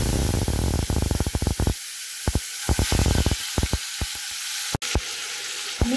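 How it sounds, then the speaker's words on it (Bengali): Potatoes coated in salt and turmeric sizzle loudly in very hot mustard oil, a dense steady crackling hiss that lasts throughout, broken by sharp pops and spits, with no one speaking. "এবার আমি আগে থেকে নুন হলুদ মাখানো আলুগুলো এর মধ্যে"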